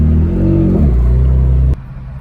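A BMW F80 M3 accelerates hard with a loud, deep engine roar climbing in pitch, then cuts off abruptly into a quieter idle rumble, up close and with no talk.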